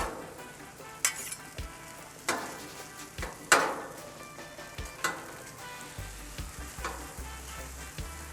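Rice frying on a Blackstone griddle, a constant close sizzle broken by sharp metallic scrapes and taps of a spatula stirring it, no voices.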